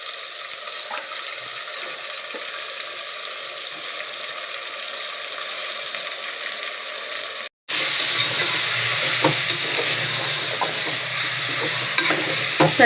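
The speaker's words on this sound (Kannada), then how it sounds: "ಚೆನ್ನಾಗಿ ಮಸಾಲೆ ಎಲ್ಲ ಮಿಕ್ಸ್ ಆಗುವ ರೀತಿ ಹುರಿದುಕೊಳ್ಳಿ" Chicken frying in a pan with masala for biryani while being stirred, a continuous loud sizzle with scraping of the spoon, brightening after a brief cut.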